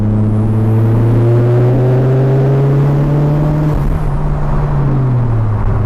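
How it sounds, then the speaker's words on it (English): A Mitsubishi Evo X with a new turbo pulls at partial throttle, its engine drone loud and steady, rising smoothly in pitch before easing off near the end, heard from inside the car. "Let's do a little half pull"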